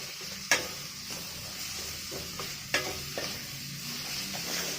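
Pointed gourd sautéing in a pan for a mashed bharta, with a steady sizzle and a few sharp stirring scrapes and knocks, close and fairly quiet, no talking.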